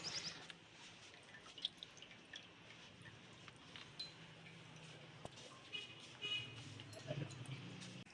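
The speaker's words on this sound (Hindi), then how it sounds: "इसका जो पानी है इसको हम हाथ की मदद से अच्छी तरह से निचोड़ेंगे" Whey is squeezed by hand out of homemade mozzarella curds, giving soft wet squishes, drips and occasional small clinks of a pot, fairly quiet and close with no talking.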